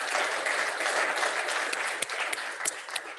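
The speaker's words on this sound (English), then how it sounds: "So let's give them all a round of applause." Audience applause at a club members' gathering, a dense steady wash of clapping from a room full of people with a few sharper individual claps standing out, filling the short span without talk.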